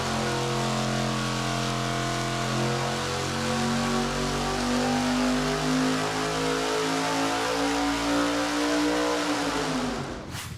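A 1000-horsepower naturally aspirated engine roars on a dyno, a loud continuous pull whose pitch climbs steadily as revs rise toward 7,000 RPM, then cuts off abruptly at the end.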